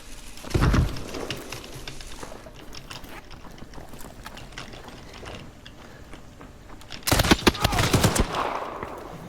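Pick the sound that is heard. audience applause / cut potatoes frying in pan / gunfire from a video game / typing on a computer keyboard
gunfire from a video game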